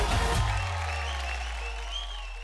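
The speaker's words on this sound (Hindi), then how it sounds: "जोरदार तालियां हो जाए योगेश के लिए, हमारे जजेस के लिए एंड गर्वित के लिए भी।" A studio audience on a televised Indian drama talent show claps while a low sustained musical tone swells beneath, the clapping loud at first and then easing into a softer steady patter under the music.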